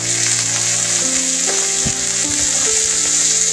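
Amla frying with crushed garlic and panch phoron in hot mustard oil, a loud, dense, continuous sizzle up close with a few faint clinks and knocks partway through.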